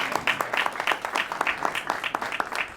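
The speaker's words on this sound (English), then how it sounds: "give a big round of applause to a great Oregonian, Rainn Wilson." Audience applause sounds at a public event, a brief burst of uneven clapping from a modest crowd, close and fairly clear.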